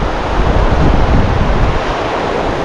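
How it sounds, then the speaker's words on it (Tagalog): Floodwater rushing down a swollen river in the Philippines, a loud, continuous roaring wash of turbulent water with a steady broadband hiss, heard alone. "mabaha na dito sa ilog namin"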